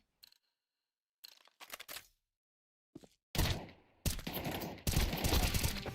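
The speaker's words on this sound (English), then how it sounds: "That was an absolute firefight" Gunfire erupts in a video game firefight during a competitive league match, with scattered short bursts early on that give way to loud, sustained rapid shots filling the final seconds.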